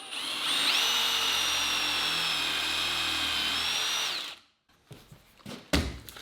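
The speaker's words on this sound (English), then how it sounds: "So first we're going to pre-drill and countersink the hole." A power drill pre-drills and countersinks a hole in wood, one loud continuous whine lasting about four seconds with a slight pitch shift, then stopping, followed by a few faint knocks and handling sounds.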